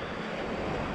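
Broadband surf at Dzhemete beach in Anapa, with waves washing steadily ashore in a continuous roar and some wind noise, no talk.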